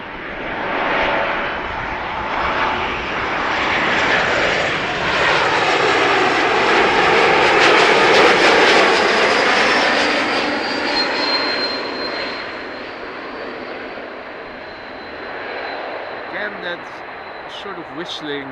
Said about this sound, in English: here's the E2 Embraer 195 with the engines